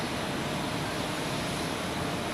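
An airliner lines up on runway 16 at Zurich Airport, giving off a steady, broad engine roar that holds constant and fairly loud throughout with no talk.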